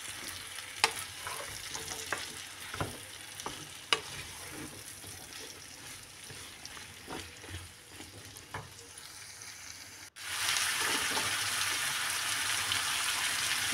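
Sliced Italian beans frying in a pan with cumin and coriander, heard first as spatula scrapes and stirring clicks over a gentle sizzle, then as a sudden louder steady sizzle near the end.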